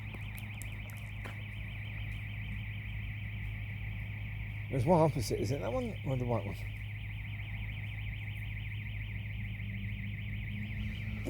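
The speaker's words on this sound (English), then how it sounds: "headlights on, but that could be because its alarm is going off" A parked car's alarm drones steadily throughout, a constant electronic tone heard from across a street at night, while a person talks briefly over it midway.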